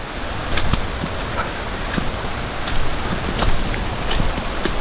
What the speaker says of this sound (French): Bon là j'ai l'impression qu'il pleut moins.